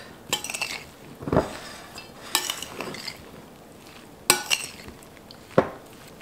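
A spoon stirs gravy into ham pot pie filling in a pot, giving soft wet scrapes and a few sharp clinks against the side, fairly close and unhurried, with no one talking.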